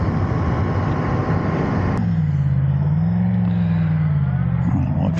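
A Yamaha MT10 motorcycle is ridden along roads in the Peak District on an evening ride. Rushing wind dominates at first, then gives way to a steady, close engine drone whose pitch rises and falls gently.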